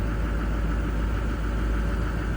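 A diesel work van with 118,000 miles, unused for a while, idles steadily after a cold-weather start at 41 degrees, a continuous low rumbling drone with no talk over it.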